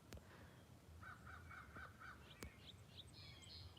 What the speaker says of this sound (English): the crows don't like the hawks. They talk back and forth and argue all a lot.